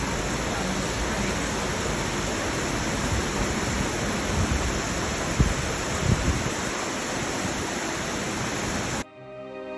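Water from a spring at Mount Shasta Redwoods rushes in a steady, close, broadband hiss that continues unbroken for about nine seconds before cutting off abruptly.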